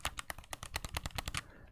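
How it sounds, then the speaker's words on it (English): PlayStation controller analog sticks rattle and click under hand movement in a rapid, irregular run of about a dozen sharp taps over under two seconds, close and fairly loud, with no voices. "My PlayStation controller makes noise too with the sticks."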